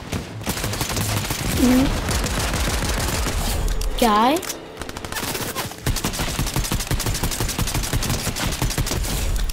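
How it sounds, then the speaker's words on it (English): Rapid bursts of automatic gunfire in the video game Fortnite crackle through the game mix in repeated volleys. A player's voice speaks briefly over the shooting, and a couple of rising whistling tones cut in. "Oh, I hear a gunshot."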